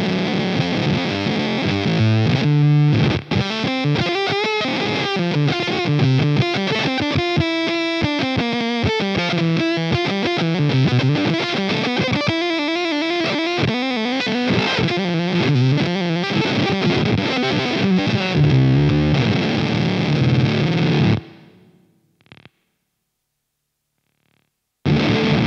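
A guitar played through a Way Huge Smalls Stone Burner sub atomic fuzz pedal gives a thick, heavily distorted, sustained tone with shifting notes for about twenty seconds, then cuts off into a sputtering, dying decay and near silence.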